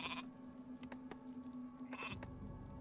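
Sheep bleating in the video game Warcraft 3 when clicked: a short bleat at the start and another near the end, with faint clicks and game sounds between.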